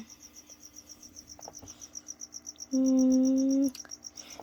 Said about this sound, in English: There are crickets in there though.